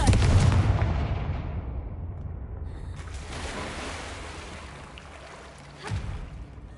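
In the Hogwarts Legacy PS5 game, a Confringo spell blast erupts as a loud burst that decays into a rumbling wash, followed by a second, sharper impact a few seconds later.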